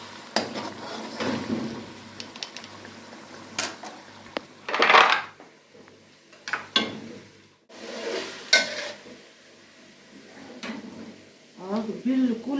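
Ground masala spices roasting in a pan over low heat, with intermittent scraping and clinking of a utensil against metal and quiet sizzling between them.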